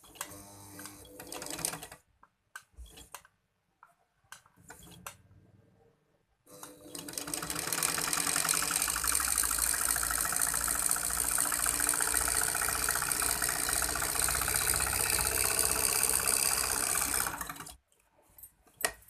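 A sewing machine stitches with anchor thread in one steady, continuous run of about ten seconds, loud and close, after a few quieter start-and-stop bursts.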